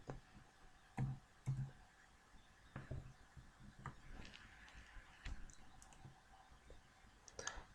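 Keys on a computer keyboard click faintly and irregularly while a Linux program is typed, with scattered taps and a few slightly louder strokes, recorded close but quiet.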